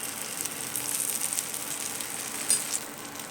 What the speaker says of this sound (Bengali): দেখুন সাইডে আমি একটু করে তেল দিয়ে দিচ্ছি।